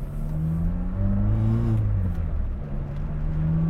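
A car, not yet fully warmed up, pulls away in first gear, its engine note climbing in a rising rev before easing and holding at a steady, close drone.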